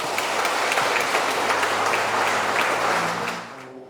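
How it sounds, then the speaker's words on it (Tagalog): Wedding guests break into warm, sustained applause for newlyweds at a Philippine Navy military wedding, the crisp clapping loud and close before tapering off at the very end. "pasalubungan natin sila ng isang masigabong palakpak"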